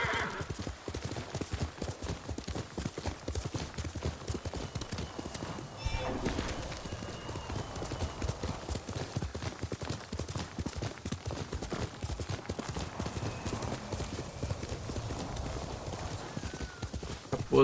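Horse hooves clip-clopping at a steady, brisk rhythm in the video game Ghost of Tsushima, close and continuous throughout, layered with game ambience.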